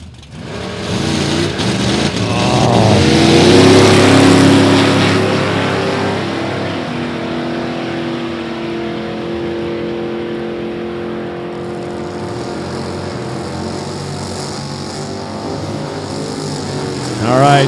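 A Chevrolet-powered Camaro drag car at an NHRA Division 3 race rumbles loudly and builds to a roaring launch before fading into a steady engine drone, heard under an announcer's commentary.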